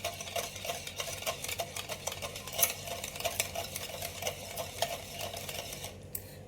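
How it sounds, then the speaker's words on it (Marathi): Rava cake batter being whisked in a bowl after milk is added, a quick steady run of scraping, clinking strokes, close and fairly loud, with no talking. "आता आपण यामध्ये 1 कप दूध घालून घेऊया आणि अजून एकदा छान फेटूया"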